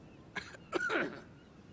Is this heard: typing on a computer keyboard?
no